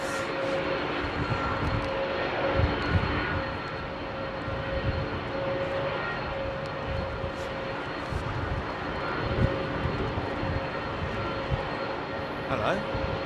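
Jet aircraft at London Heathrow Airport on a windy day: a steady, loud engine roar with wind rumble throughout, sustained without clear breaks.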